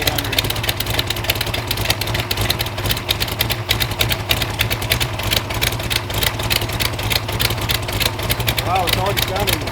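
Mopar LA small block V8 (318, 340 or 360) with a swapped intake, idling steadily at low revs close by, its fast even ticking rhythm continuous throughout.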